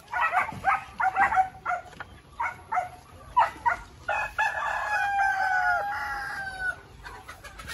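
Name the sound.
rooster crowing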